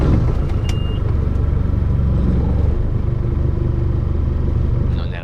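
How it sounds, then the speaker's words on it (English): An FPT S30 diesel engine aboard a Bimax Alchimia 28 motor boat runs after starting, giving a loud, steady low rumble that holds at a constant level and eases slightly at the very end. "start the diesel one"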